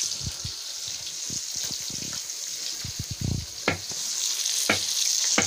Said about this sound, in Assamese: মাছখিনি ভাজি আছোঁ